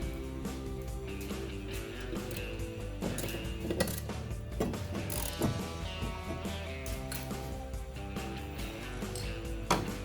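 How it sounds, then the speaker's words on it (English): Ratchet tightening a bolt on a mower blade, a steady run of close, crisp metallic clicks repeating throughout. "Up with the ratchet to make sure I'm fairly tight."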